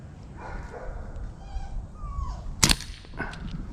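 A Diana Bandit .22 PCP air pistol fires a single sharp, loud crack nearby against a quiet background with faint indistinct sounds.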